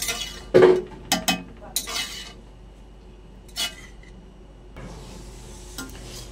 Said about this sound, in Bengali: সব কিছু একসঙ্গে খুব ভালো করে এবার মিশিয়ে নেব